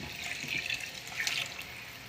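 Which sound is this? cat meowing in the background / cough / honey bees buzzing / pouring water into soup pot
pouring water into soup pot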